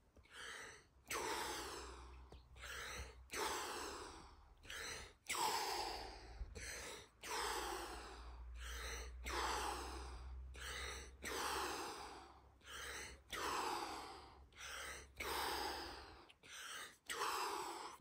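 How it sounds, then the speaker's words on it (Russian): Deep breathing exercise with about a dozen strong, close breaths in a steady rhythm, each a sharp inhale or forceful exhale separated by short pauses, with no talking. "И делаем дыхание. Просто дыхание."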